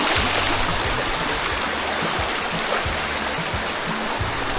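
A shallow stream rushes steadily around someone's feet, a close, continuous broadband wash of flowing water with gurgles and occasional low knocks.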